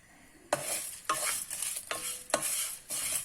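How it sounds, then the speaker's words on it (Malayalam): Stuffing mixture for stuffed bitter gourd fries in a pan, with several sharp stirring scrapes at regular intervals over a steady close sizzle. "ഇനി നമുക്കിത് നന്നായിട്ട് വറക്കണം."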